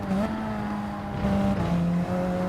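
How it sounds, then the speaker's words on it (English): A race car engine at Interlagos in a racing game climbs in pitch and then drops as it shifts up out of a corner, making a steady loud, buzzing drone with a few clear gear changes and no talk. "upshifting on the exit to prevent wheel spin being in those lower gears"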